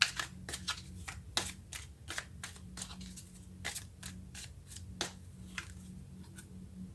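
Tarot cards snap and riffle in quick, crisp bursts, roughly a dozen short slaps spread unevenly across the stretch, close and fairly quiet over a low steady hum.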